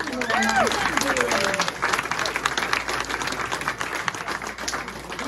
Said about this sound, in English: let's have a massive round of applause